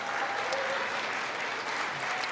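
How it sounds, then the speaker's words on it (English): Audience applause during a State of the Union address, a short burst of dense, even clapping from a large crowd that holds steady throughout. "They're clapping for it"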